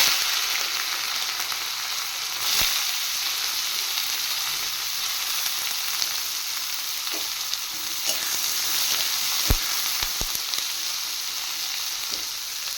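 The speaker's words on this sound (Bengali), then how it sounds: "এবার আমি পেঁয়াজ আর কুঁদরি একসাথে কেটে রেখেছি দিয়ে দেব।" Chopped onion and ivy gourd (kundri) fry together in hot oil, producing a continuous close sizzle with occasional sharp clicks and taps of a utensil against the pan, no talking.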